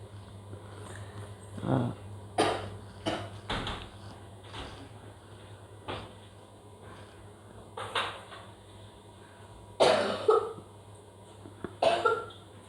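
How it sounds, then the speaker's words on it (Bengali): Young children with colds coughing in chilly, rainy weather after just being woken; several separate coughing bursts spread through the stretch, fairly close, with faint household clatter between them. "ঠান্ডায় খুব কাশতেছে ওরা"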